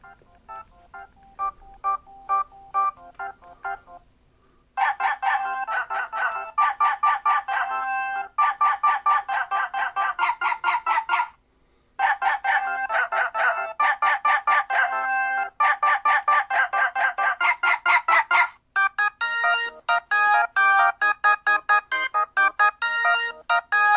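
A rooster crowing phone ringtone plays loud, electronic tones in repeated bursts with short gaps, changing pitch pattern near the end; no voices.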